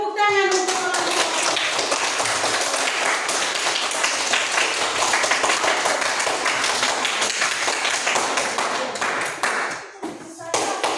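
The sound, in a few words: audience clapping for the group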